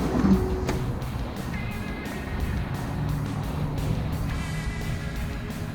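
A Polaris RZR 900S side-by-side idling and running on a trailer, a steady close engine drone with a faint whine rising at points, no speech.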